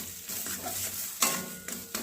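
A spoon stirs gourd leaf vorta with salt in a hot pan, giving soft scraping strokes over a light sizzle, with a couple of sharper clinks against the metal, close and fairly quiet.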